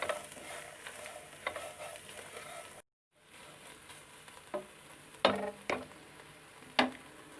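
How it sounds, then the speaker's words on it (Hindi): Capsicum, carrot and cabbage stir-fry in a pan for chicken fried rice: a continuous soft sizzle with sharp spatula scrapes and clacks. There is a brief silent gap early on, and the stirring grows busier afterward. "2 से 3 मिनट सब्जियों को अच्छी तरह फ्राई करेंगे।"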